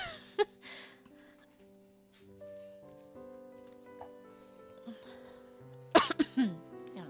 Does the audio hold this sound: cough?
yes